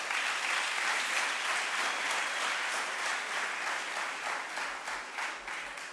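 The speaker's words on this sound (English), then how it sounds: "let's clap hands for them." Steady applause from a crowd at a career expo, dense clapping holding at an even level for several seconds with no talking over it.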